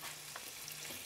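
Rice with saffron, cream cheese and cream heating in a pan while being stirred, giving a soft, steady sizzle with faint scraping strokes, close and quiet, no talking.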